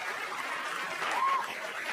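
Comedy club audience applauding steadily for a stand-up comic, a dense even wash of clapping that swells slightly midway, with a faint brief tone over it.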